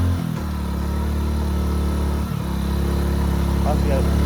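A car engine labours up a steep hill road in second gear in the Jharkhand hills, a loud, steady low drone that dips briefly partway and then strains on, with voices audible over it.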